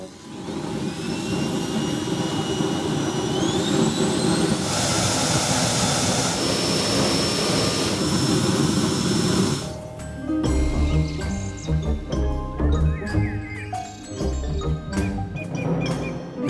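A homemade electric jet engine runs with a loud, steady high-pitched whine whose tone climbs over the first seconds and holds near the listener, followed by a dense burst of broadband roar and rattling.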